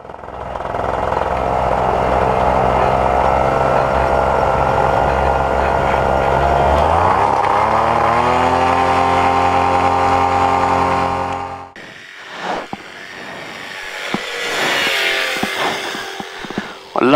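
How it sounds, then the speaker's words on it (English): A PeaBee light aircraft engine runs loud and steady with a strong droning tone that drops in pitch partway through, then cuts off, leaving quieter knocks and handling noises. "although it's the same engine in a paramotor, it doesn't sound anywhere near as noisy"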